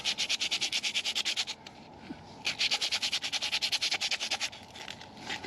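Hand sanding with a small piece of sandpaper to clean a rear brake rotor on a 2000 Ford F250, rapid rhythmic back-and-forth rasping strokes close by, in two bursts with a short pause between them.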